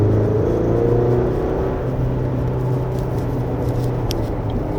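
A 2025 Chevrolet Colorado Z71 pickup pulls away on a winding road, heard from inside as a steady engine drone and tire rumble that eases slightly, with no talking.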